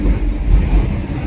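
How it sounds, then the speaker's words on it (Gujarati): An electric train runs steadily with a dense, continuous low rumble and rolling noise, close and loud, and no voices over it. "અને ઇલેક્ટ્રિક ટ્રેન છે ભાઈ"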